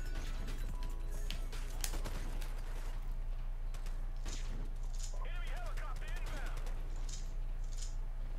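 Scorpion gunfire in a video game rings out as a flurry of sharp shots early on, then thins to scattered impacts and game effects over a steady background hum.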